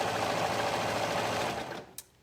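A sewing machine runs a seam around the curved underarm of a shirt, a steady close-up whirring stitch that slows and stops near the end, followed by a brief click.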